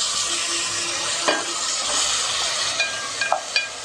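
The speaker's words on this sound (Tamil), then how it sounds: "ஒரு நிமிஷம் நல்லா வதங்கட்டும்." Tomato, green chilli, mint and coriander sautéing in a pan for a spicy chicken curry, a soft, steady sizzle and hiss with a few light clinks of stirring near the end.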